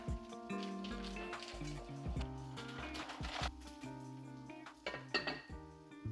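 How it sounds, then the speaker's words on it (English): Water and vegetables sizzling in a pan while protein pasta is cooked, a steady close frying hiss with clinks and knocks of pots and utensils throughout, fairly faint overall. "both the water and the vegetables are sizzling"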